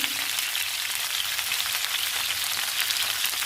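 Okra pieces and curry leaves fry in a pan with a steady, dense sizzle like light rain, even and unbroken throughout, with no voices.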